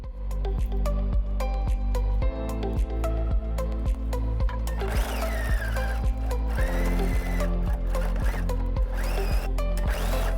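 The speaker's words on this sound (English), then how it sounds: "pin in place so that we can sew this seam using a 1/4 inch seam allowance again" A sewing machine stitches a quilt block seam with a steady, rapid mechanical thumping of the needle, joined midway by a whirring motor whine that rises and falls, close and loud with no talking.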